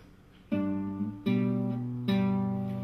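Three plucked guitar notes or chords, each struck and left ringing, slow and close, closing Bach's Minuet in G.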